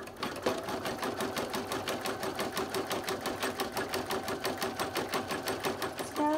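An embroidery machine stitches a felt appliqué in the hoop, its needle hammering in a fast, even rhythm that runs steadily and up close the whole time, with no voices.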